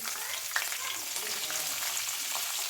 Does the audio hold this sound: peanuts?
yes